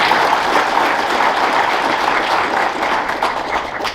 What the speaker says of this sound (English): So please give him a hand.